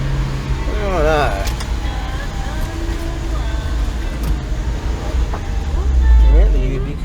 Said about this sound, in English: Yeah, the ubiquitous K-trucks.